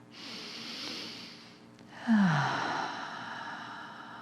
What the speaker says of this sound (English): And take a breath.